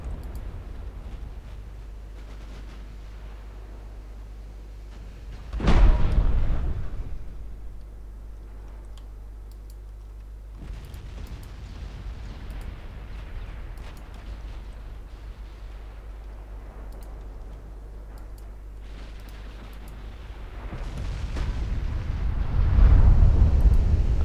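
Naval guns fire in Ultimate Admiral Dreadnoughts: a heavy boom lands near the start, and another low rumbling salvo swells near the end over a steady low hum and faint ticking.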